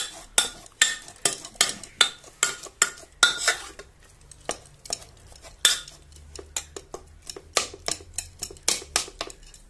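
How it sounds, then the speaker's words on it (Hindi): Cooked stinging nettle saag being stirred and mashed with a spoon in a pot, giving a steady series of sharp metallic taps and scrapes, roughly two or three per second, fairly close and with no talking. "अभी हम इसको अच्छे से घोल देंगे चम्मच की सहायता से, हल्के हल्के तरीके से इसको दबा देंगे"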